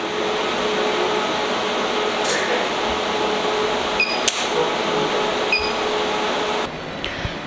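A lithium-ion battery discharge tester rated 132 V and 200 A runs with a loud, steady broadband whir like a cooling fan, marked by a few faint clicks and beeps, and the level drops slightly near the end.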